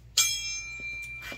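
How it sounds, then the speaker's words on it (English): A small bell struck once to mark a finished motorcycle repair, a seized gas cap freed, ringing with a bright metallic ding that decays slowly, followed by a softer second tap near the end. "ring the bell, because it's a good deal"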